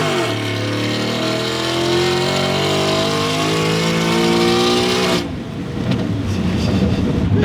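A Coyote-swapped Ford F150 Lightning accelerates on the street with tires spinning as the automatic shifts. A loud engine note climbs steadily, then abruptly gives way to rough, noisy tire and engine rumble.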